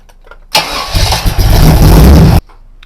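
A supercharged Chevy small-block V8 with uncapped headers cranks and fires, then runs as a loud, raw, rough idle for about two seconds before cutting off abruptly, with no talking.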